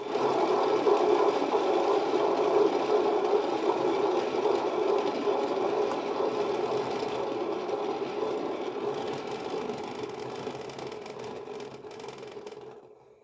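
A spinner turning an acrylic fluid art painting, giving a steady motorized whir with a low hum, close and even for several seconds before slowly winding down and stopping at the end.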